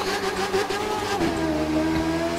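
A Kawasaki Z1000 motorcycle engine in The Crew 2 video game revs up and drops back steadily, a loud, close, continuous drone with no talk over it.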